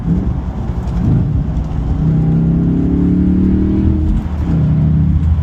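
A big Audi RS4 B7 4.2-litre V8 engine revs up close, its note climbing and falling in a throaty roar over steady road noise.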